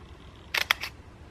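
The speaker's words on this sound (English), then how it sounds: "you can hear the shutter." An Olympus OM-D camera fires its mechanical shutter, producing a quick close double click followed by a softer third click in a quiet room.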